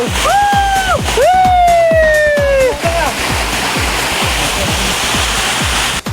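Ghogata waterfall near a village roars loudly and steadily, its rushing water filling the whole scene close up, with a brief sustained whistle-like tone drifting over it early on.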